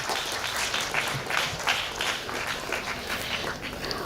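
Audience at a cultural festival launch event applauding, a steady wash of many hands clapping from mid-distance that holds evenly throughout.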